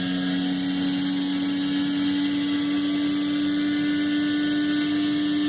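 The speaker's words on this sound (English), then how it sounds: "Just listen to the engine sing here." A loud, high-pitched IndyCar engine whine holds steady and continuous, a racing motor screaming at sustained high revs around 187 mph, with no voices.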